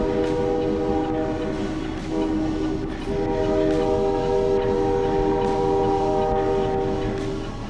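A train rolls past at a railroad crossing in California, its horn sounding in long sustained blasts over the loud, steady rumble of wheels and cars, close and continuous throughout.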